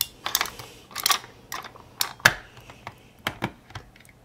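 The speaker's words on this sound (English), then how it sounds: "the lid just screws right back on" A plastic lid on a UST 10 Day lantern being screwed back on, a quick series of close, sharp clicks and ratcheting ticks spaced through the twist.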